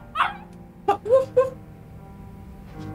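A dog gives a quick cluster of high yips and whimpering cries, three or four short calls close together near the start, then falls quiet over a low steady background hum.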